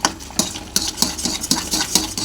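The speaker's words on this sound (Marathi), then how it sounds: "अशा प्रकारे हलवत राहा याला, जेणेकरून चिकटणार नाही खाली भांड्याला हे मिश्रण." Lapshi mixture stirred in a cooking pot, a spoon scraping the bottom in a regular rhythm of about three strokes per second, close and clear with no talking.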